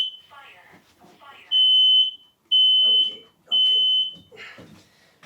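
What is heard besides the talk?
fire alarm set off by haze in a can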